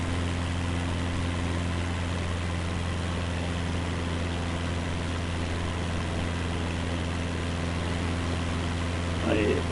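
A Cessna propeller plane's engine drones steadily in Microsoft Flight Simulator 2024, a constant low hum with no change in pitch across the whole stretch.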